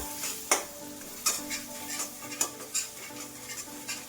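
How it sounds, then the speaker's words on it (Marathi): Ground spices and turmeric stirred in hot oil in a pan for a Bhogi mixed-vegetable dish, with a soft steady sizzle broken by several sharp spoon scrapes and clinks against the pan. "मसाले छान तेलावरती परतून घ्यायचे आहेत"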